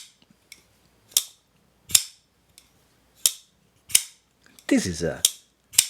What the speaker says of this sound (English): solid thwack when you deploy the knife